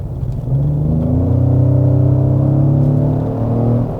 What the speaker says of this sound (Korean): 이 엔진 소리 한번 다시 들려드릴게요